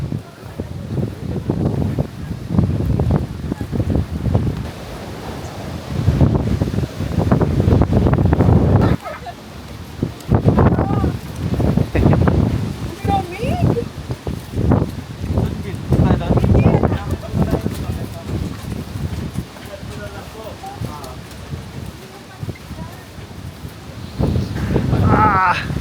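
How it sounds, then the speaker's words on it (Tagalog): Strong wind buffets the microphone at an open-air spot in Tagaytay City, a continuous loud roar with gusty surges that persists across the whole stretch, with people talking under it. "Nananampal yung hangin."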